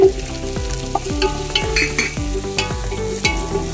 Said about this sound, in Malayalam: നന്നായിട്ട് വഴറ്റിയെടുക്കാം ഇത് വഴറ്റി വരാൻ വേണ്ടുന്ന ഉപ്പ് ചേർക്കാം